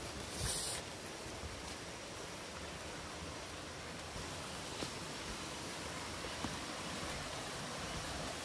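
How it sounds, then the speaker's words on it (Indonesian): Singsing Kelesih waterfall in Wangayo Gede village, Tabanan, Bali, gives a steady, faint hiss of falling water with no pauses, heard alone from some distance. "Air terjun yang berada di Desa Wangayo Gede, Kecamatan Penebel, Kabupaten Tabanan, Bali."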